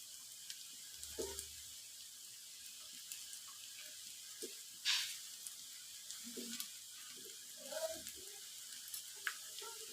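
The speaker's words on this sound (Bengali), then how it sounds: "লাল লাল করে ভাজতে হবে।" Puffed rice pakoras deep-fry in hot oil with a faint, steady sizzle, broken by a few soft clinks and scrapes of a utensil at the pan.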